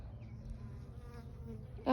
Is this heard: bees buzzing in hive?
yes